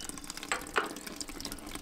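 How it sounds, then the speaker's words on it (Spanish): Apple juice streaming from an old restored fruit press, a faint continuous trickle and splash with a couple of slightly louder splashes. "Jugo que sale y la cantidad de manzanas que molemos."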